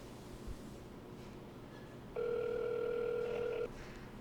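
An outgoing phone call ringing out unanswered, heard as a single steady ringback tone lasting about a second and a half over quiet room hiss, faint and alone with no voices.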